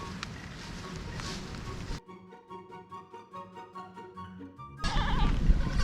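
A series of high, wavering goat bleats at Hawksbill Resort, about a dozen short cries in quick succession, bracketed by louder outdoor noise before and after.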